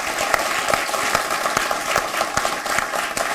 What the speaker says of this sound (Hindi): तालियां बजाकर शुरू करें